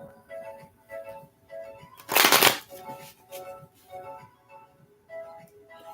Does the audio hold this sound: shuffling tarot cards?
yes